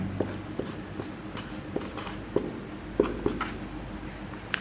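Pen scratching on paper while working out an HCF math problem, soft irregular strokes and taps, close and quiet, with no talking.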